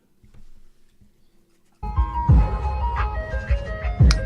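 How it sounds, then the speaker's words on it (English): Ice cream truck music playing loud and bright in a neighborhood street, a tinkling tune kicking in after a brief quiet stretch and carrying on steadily to the end. "Ice cream truck in the hood."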